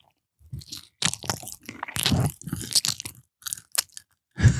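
Thick, crunchy pizza being bitten and chewed close to the mic, heard as a series of dry crunching bursts with short quiet gaps and no talking.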